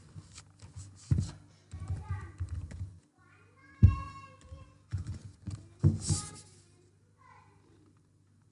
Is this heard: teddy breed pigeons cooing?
no